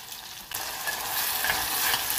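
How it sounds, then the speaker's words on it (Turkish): A loud, steady sizzle of peppers frying in hot olive oil over medium heat, starting with a sudden burst and crackling continuously without any talking. "orta ateşte biberimi kavuruyorum"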